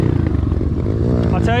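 An Apollo Z20 pit bike engine bogs down with a loud, low, uneven rumble that struggles and then rises slightly in pitch near the end, heard up close with a voice talking over it.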